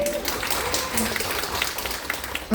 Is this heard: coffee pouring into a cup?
no